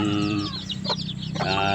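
Chickens among newly hatched chicks, close clucking hen calls with bright chick peeps layered over a low background hum, all in a short burst.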